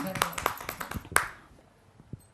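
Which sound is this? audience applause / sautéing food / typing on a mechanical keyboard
audience applause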